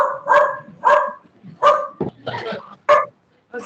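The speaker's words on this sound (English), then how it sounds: "it sounds like we have a dog in the room" A dog barks repeatedly in a conference room, loud and close, with a string of sharp barks and yips at an uneven rhythm and short pauses between them.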